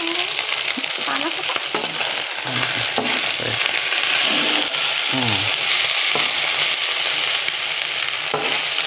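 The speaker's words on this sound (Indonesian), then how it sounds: "kita goreng-goreng nasi goreng lo sarapan" Nasi goreng (fried rice) sizzles in a hot pan, with continuous loud frying hiss and repeated scraping stirs of the utensil, close up.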